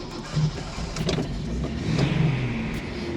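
A project car's engine is cranked with the choke pulled and catches into a rough, uneven idle under a low rumble, with a couple of short bumps along the way.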